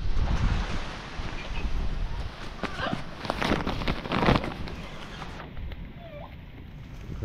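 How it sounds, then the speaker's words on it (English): Gusty wind buffeting the microphone with rough rumbling surges during outdoor transplanting of golden dragon fruit seedlings, with a few faint background sounds. "It's pretty windy here."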